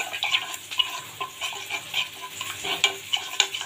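Spice paste with mustard oil and a splash of rinse water being stirred in a pan for potato dum: scraping spoon strokes over a soft sizzle, close and fairly quiet, no voices.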